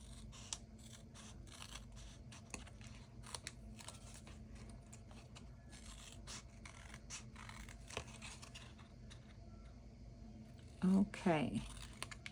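Scissors snip paper for a handmade interactive journal, a soft steady rubbing and scraping close to the mic that ends in a short louder burst of cutting; a voice speaks now and then.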